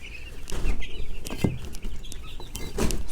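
Broiler chickens in a poultry house cluck repeatedly in short bursts, with a few louder calls and some wing flapping close by.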